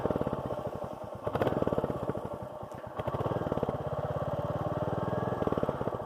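A Royal Enfield Classic 350 motorcycle with 3,000 miles on it idles close by with a steady, even thump, its beat briefly quickening and then settling back into a regular chug.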